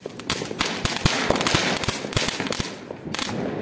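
Diwali firecrackers bursting in rapid, irregular crackling pops, loud and close, with a sustained rattling barrage through most of the stretch.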